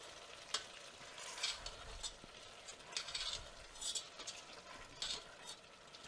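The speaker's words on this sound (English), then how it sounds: "we're going to have to add in the whipping cream a little at a time and stir it in" Whipping cream is stirred into meatball sauce in a pan, giving a quiet bubbling sizzle broken by soft, rhythmic swishing strokes of a whisk or spoon.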